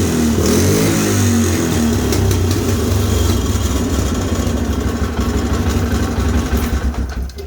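Polaris Sportsman 500 ATV engine idling steadily up close, a loud, even mid-pitched rumble that holds throughout and eases slightly at the very end.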